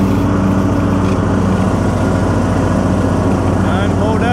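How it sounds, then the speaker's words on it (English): Lawn mower engine running at night while mowing grass, a steady close droning hum throughout with someone talking over it. "doing a little mowing at night."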